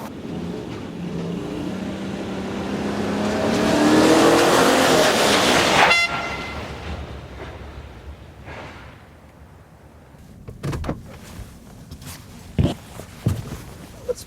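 A 2014 Chevrolet Silverado pickup's engine revs hard and rises in pitch as it launches and accelerates away on winter tires, then cuts off, leaving faint knocks and clunks afterward.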